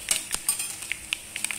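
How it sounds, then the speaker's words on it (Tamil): Dried chili and lentils tempering in a hot kadai for a spinach mash, with soft crackling and metal clinks of a utensil against the pan, close and fairly quiet, no talking. "இப்போ ஒரு கடாயில் தாளிக்கிறதுக்காக ஒரே ஒரு காஞ்ச மிளகாய் விதையை எடுத்துகிட்டு சேர்த்துக்கோங்க"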